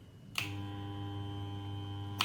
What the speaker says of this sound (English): you can hear the hum of a classic UFO motion.